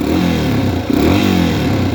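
Engine of a 2018 Yamaha TTR230 motorcycle revving, loud close mechanical whine rising and falling in short repeated blips, with more motor clatter than exhaust note.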